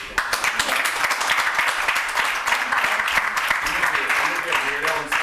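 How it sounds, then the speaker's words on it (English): Sustained audience applause fills a room at a theater conference, with dense, even clapping close by at a strong, steady level from start to finish and a few voices mixed in. "Can we give her a round of applause?"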